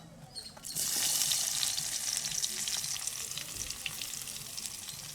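Onions, green chilies and curry leaves dropped into hot oil, bursting into a loud hissing sizzle that settles into steady frying with faint stirring, close by and without talk.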